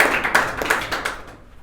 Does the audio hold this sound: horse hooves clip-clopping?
no